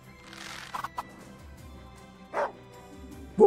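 Caesar, the dog commander in the Wargroove video game, gives a few short barks and yips amid game sounds, with a bright bark near the start and two more sharp bursts toward the end.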